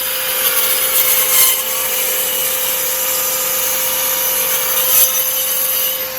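Wooden boards for a camper van countertop being cut with a power saw, a steady whining, rasping cut that runs continuously at close range with slight surges.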